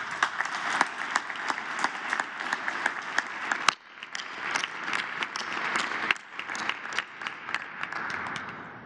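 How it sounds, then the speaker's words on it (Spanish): An audience at the closing of the 84th Banking Convention in Mexico City applauds, a dense, sustained clapping that dips briefly around midway then swells again and carries on. "Un aplauso."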